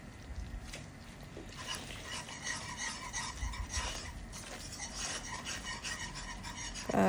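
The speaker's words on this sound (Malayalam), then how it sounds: "ഇത് വീണ്ടും ഇളക്കി നന്നായിട്ട് യോജിപ്പിക്കുക." Garlic butter Parmesan pasta with cheese being stirred in a pan over a low flame, a steady scraping and rubbing of utensil against pan running throughout with faint sizzling, close and moderately loud, no talking.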